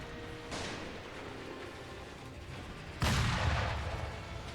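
Enemy gunfire in Sekiro: Shadows Die Twice booms out in two heavy blasts, a first burst early on and a louder, rumbling shot later that slowly fades, with no talking.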